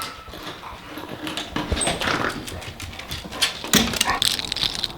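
A six-month-old beagle puppy and another dog run around after being let out, with scrabbling paws, whimpers and yips close by.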